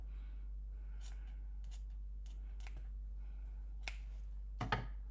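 Several crisp snips of sharp scissors trimming the tails of a ribbon bow, spaced irregularly and close, with a quick double cut near the end over a steady low electrical hum.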